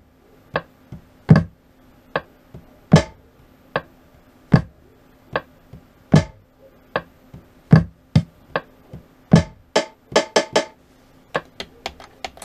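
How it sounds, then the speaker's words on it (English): Percussive hits added to a beat, sharp isolated thumps and clicks landing at uneven intervals with a brief cluster of rapid hits near the end, dry and close with a faint steady hum underneath. "I'm gonna fatten it up with some more kicks"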